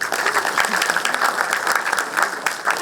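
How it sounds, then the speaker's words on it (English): A crowd claps continuously and evenly for a keynote speaker at a DevFest 2023 developer conference in Chennai, a dense, moderately loud wash of many hands with no pauses. "And I wanted one cheer up for me as well."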